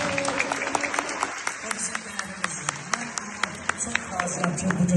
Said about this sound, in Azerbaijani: Allah qocaman bir alqış istəyirəm Manaf Ağayevin şərəfinə